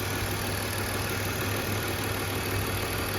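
A BMW engine with misfire trouble codes idling, a steady, dense mechanical hum that stays even and unbroken throughout at close range, with no voices.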